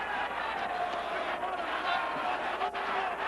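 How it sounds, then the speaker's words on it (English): Crowd at a boxing match in Sacramento, a continuous roar of many voices filling the arena, steady and fairly loud throughout. "Boy, it's a crowd here in Sacramento that is into this fight."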